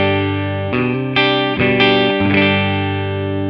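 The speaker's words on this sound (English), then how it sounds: "this is my deluxe reverb with the Celestian greenback" Overdriven electric guitar chords ring through a Fender Deluxe Reverb amplifier with a Celestion Greenback speaker, a few strums in succession with sustained, slightly gritty tone.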